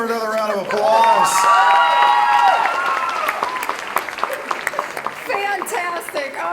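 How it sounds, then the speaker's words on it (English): A crowd at a seniors' talent show claps and cheers for a harp performer, a dense burst of applause with whoops and a voice talking over it, settling into scattered claps toward the end. "Let's give her another round of applause."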